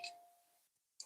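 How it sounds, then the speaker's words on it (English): Chimes ring softly at a distance, with a sustained tone fading out, a near-silent pause, and then a fresh bright strike at the end. "Chimes are going crazy right now."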